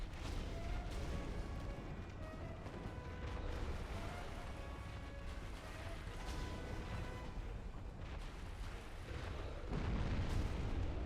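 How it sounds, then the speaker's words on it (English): In the video game Dark Souls, a big explosion produces rumbling, booming bursts with layered crackling impacts, heard fairly quietly over about ten seconds. "Okay, big explosion."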